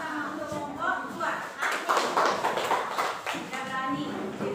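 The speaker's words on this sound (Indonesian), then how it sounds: "Kita kasih tepuk tangan untuk kelompok 2." A classroom group applauds the second group, with a burst of scattered hand clapping rising midway and carrying on under a speaking voice.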